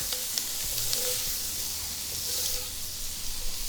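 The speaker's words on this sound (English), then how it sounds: "just cook the shrimp until it changes color" Steady, loud sizzling of shrimp frying in a hot pan, with occasional light stirring clicks and scrapes.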